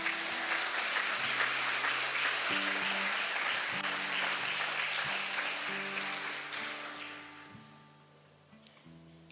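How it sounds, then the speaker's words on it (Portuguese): A church congregation claps together in a loud, sustained burst of applause that fades out near the end, with sustained organ or keyboard chords underneath. "Olha o salve de palmas para Jesus."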